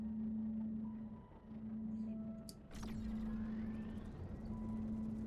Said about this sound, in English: it's made a weird engine noise for us